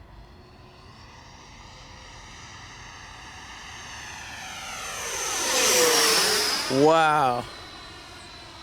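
An Avios MiG-17 Fresco RC jet on its maiden flight swells from a distant whine into a loud, close roaring pass with a falling Doppler sweep, then fades, as a voice briefly exclaims.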